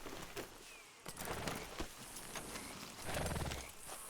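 Horse hooves clip-clopping in the video game Red Dead Redemption II, a steady run of light, faint hoofbeats over ambient game background noise.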